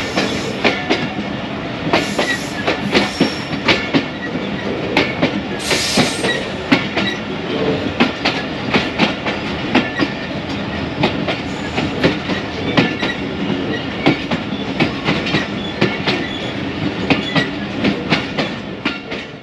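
A passenger train between Sukkur and Quetta rolls slowly through a small station on the Pakistani desert line, wheels clicking over rail joints in a steady clickety-clack with rumbling carriage noise, close and continuous throughout.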